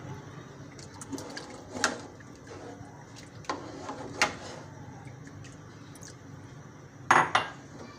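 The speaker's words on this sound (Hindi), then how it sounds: "ये थोड़ा थोड़ा करके डालते जाएंगे, हिलाते जाएंगे इसको ताकि इसकी गुठलियाँ नहीं बने आपस में।" Batter being stirred into beef nalli nihari in a metal pot, with scattered clinks and scrapes of a spoon against the pot over a soft background, a few louder knocks near the end.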